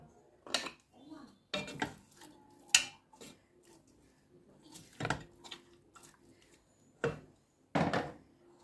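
A cooking pan set down and handled in a Moroccan home kitchen while making Meknes-style mrouzia, with sharp metallic clanks and knocks of pots and utensils at irregular intervals, moderately close, with quiet pauses between and no talk.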